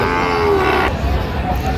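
A Sahiwal bull moos loudly and close by, a long drawn-out low call, followed by a second quieter moo amid a noisy cattle market background in Noakhali.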